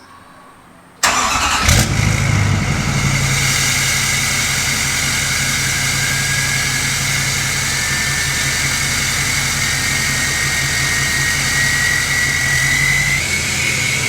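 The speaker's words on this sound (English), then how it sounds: "Like, these VGT turbos are no joke. And it's like a continuous spool." A tuned truck engine with VGT turbos starts after a second of quiet, then runs with a loud steady roar and a continuous high turbo whistle, close and sustained without talking.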